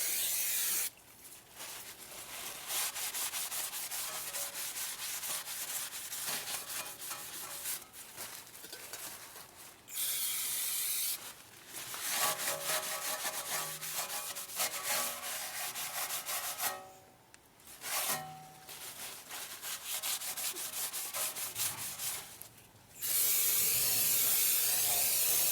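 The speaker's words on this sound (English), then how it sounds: "now I can wipe down the other side" Rag wiping down the rear brake disc of an Audi A3, a series of close, dry rubbing and brushing strokes in bursts separated by short pauses, with no talk.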